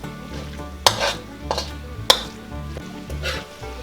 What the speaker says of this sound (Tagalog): Tapos hahaluin lang natin ng hahaluin.